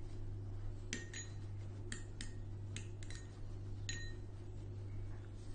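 Crushed garlic being mixed into butter in a bowl, heard as a handful of sharp, separate clinks of a utensil against the bowl over a steady low hum, with no talking.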